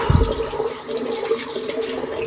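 Tap water runs steadily over dentures being rinsed clean of toothpaste in a sink, a continuous close splashing hiss with a brief heavier gush at the start and no talk.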